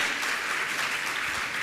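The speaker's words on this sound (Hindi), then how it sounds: "मैं सम्मान सहित आपकी ताली का सम्मान चाहूँगा" Loud, steady audience applause at a Jain religious gathering in India, a dense wash of many hands clapping continuously throughout with no voices over it.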